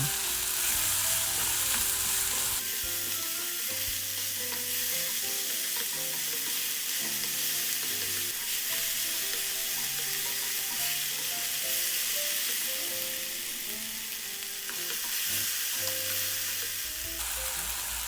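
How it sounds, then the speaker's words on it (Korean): Onions and mushrooms stir-fry in a pan for omelette rice, a steady close sizzle with utensil scraping and stirring running throughout, no talk. "양파와 버섯은 살짝만 익어도 되기 때문에 오래 볶지 않으셔도 돼요."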